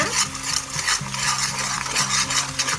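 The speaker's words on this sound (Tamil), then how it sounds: "நல்லா கிண்டி விட்டுக்கிட்டே இருங்க" A utensil scrapes and stirs food in a pan, with a steady rhythmic scraping over a faint sizzle and a low hum, no talking.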